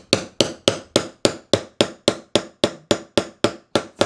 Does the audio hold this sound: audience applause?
no